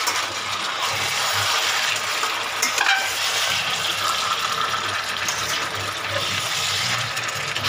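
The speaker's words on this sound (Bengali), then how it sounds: "এটাকে একটু নাড়াচাড়া করতে হবে।" Chicken curry cooks in a pan while being stirred, giving a continuous close sizzle with soft scraping and shuffling of the pieces.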